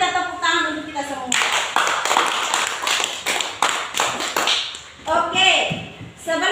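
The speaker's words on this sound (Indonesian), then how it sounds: "mari kita tepuk tangan untuk kita semua" A class of primary school children claps together for a good stretch, the rapid slaps dense and close, with children's voices and chatter running through it before and after.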